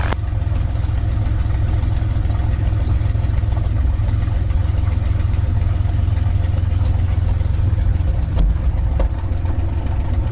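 A TF-51 Mustang's piston engine idles before the run-up, giving a loud, steady, deep rumble with a lumpy, throbbing pulse close to the microphone and no speech.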